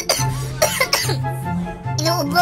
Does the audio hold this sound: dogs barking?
no